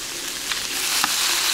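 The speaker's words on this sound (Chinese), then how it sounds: "这个我们要好好的炒一下了" Bamboo shoots and pork intestines are stir-fried in a wok with a steady, moderate sizzle and a couple of brief scraping stirs close up. No one speaks.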